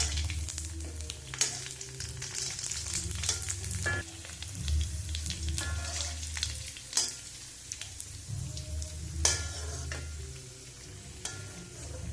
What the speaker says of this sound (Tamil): இதை வந்து நான் இப்போ ஆயிலில் பொரிச்சு எடுக்க போகிறேன்.